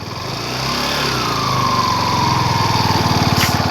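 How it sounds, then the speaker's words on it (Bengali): A vehicle engine starts up and settles into a loud, close, steady putter that grows slightly stronger, running alone without any talking. "গাড়ির ইঞ্জিনের আওয়াজে ঘুমাচ্ছে"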